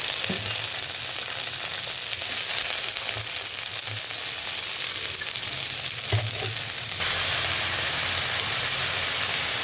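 Cabbage hits a pan of frying sliced onions and cumin, setting off a loud, steady, hissing sizzle that fills the whole stretch, with a few faint stirring clinks and no voices.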